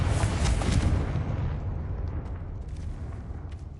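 A Confringo blasting spell explodes in Hogwarts Legacy, a loud booming blast that rolls off into a fading rumble with a few faint crackles trailing behind.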